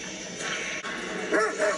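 Dog barking during a TV drama scene from The Walking Dead, with short yips and whimpering barks that rise over background score near the end.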